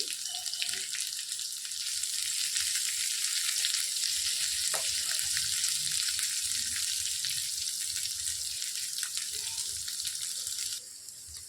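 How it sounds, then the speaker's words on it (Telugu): Thinly sliced onions frying in an oiled pan make a dense, hissing sizzle that holds steady for most of the stretch before easing slightly near the end, close up and without speech. "ఉల్లిపాయలన్నిటిని వేసుకొని వేయించుకోవాలి."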